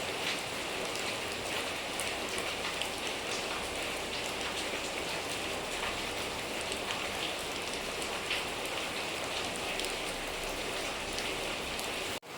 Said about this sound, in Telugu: ఇగో ఈ వర్షం పడుతుంది, మళ్ళీ వర్షం పడుతుంది